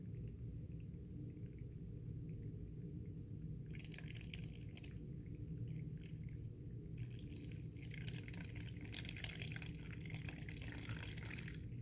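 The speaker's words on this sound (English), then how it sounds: "Now I'm going to go ahead and slowly pour water into the cup here at the low height." Water poured slowly trickles down a sand stream table, a faint, soft trickle and light splashing over a low steady rumble, growing a little busier toward the end.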